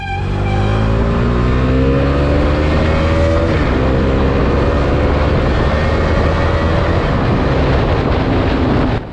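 A Bajaj Dominar 250 BS6 motorcycle engine is heard while riding, loud and close, its pitch climbing steadily through the gears as it accelerates, with a continuous strong drone and no talking.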